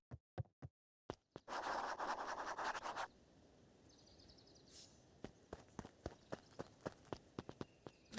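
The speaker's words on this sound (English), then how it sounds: "Luca heard a group of footsteps approaching" A group of footsteps approaches in the video game Beacon Pines, heard as scattered soft thumps with a rustling scrape in the middle, then a quicker run of steps growing steadily nearer.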